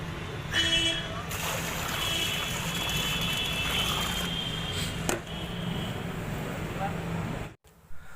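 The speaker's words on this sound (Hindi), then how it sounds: "तो दोस्तों अब इसमें भरते हैं पानी।" Water is poured into an earthing pit around a ground rod, a continuous splashing gush that runs steadily for about seven seconds before stopping abruptly.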